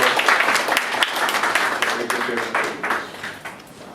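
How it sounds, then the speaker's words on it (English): Applause from attendees at a community action board meeting, uneven individual claps close by and fading out over a few seconds. "So let's give them a round of applause."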